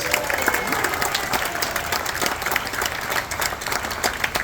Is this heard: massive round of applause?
yes